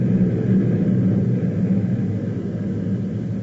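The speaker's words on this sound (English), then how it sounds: "That was Zubansky's plane taking off" A plane takes off as a low, steady engine rumble, fairly loud at first and then fading slightly as it pulls away, with no voices over it.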